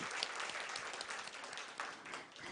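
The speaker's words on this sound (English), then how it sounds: "Can we have a louder round of applause again?" An audience at a Women in Sales event gives a round of applause, steady dense clapping heard at a modest level from start to finish.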